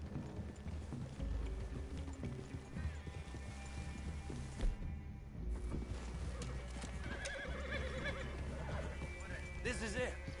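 A horse whinnies amid steady hoof clip-clop and outdoor ambience in Red Dead Redemption 2, with a voice talking briefly over the scene.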